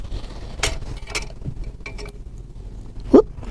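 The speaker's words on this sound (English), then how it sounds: "we're going to drop one screw and one washer" A small screw and a washer drop into a bowl, making a few scattered light metallic clinks and ticks and one sharper clatter near the end over a quiet background.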